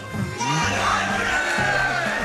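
Crowd cheering and whooping at a charity speedrun marathon event, a loud sustained roar of many voices with shouts rising and falling across the whole stretch.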